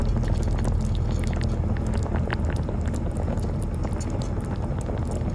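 Mackerel kimchi stew bubbling in a pot over a weak flame outdoors, with a steady close simmer of popping bubbles and small crackles running throughout.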